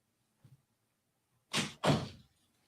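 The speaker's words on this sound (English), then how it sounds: "Let me close my door so I don't hear you 3 times." A room door being shut during a live podcast stream, a faint brief knock followed by two close, firm thuds as the door swings and latches, otherwise quiet.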